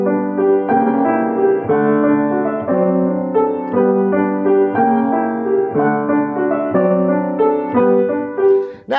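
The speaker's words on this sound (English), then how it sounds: "I'm going to play it with bad fingering using the pedal." Solo piano plays the opening of Schumann's Scenes from Childhood with the sustain pedal down and clumsy fingering, so the notes blur into a smooth, ringing, connected melody over chords, played steadily and alone.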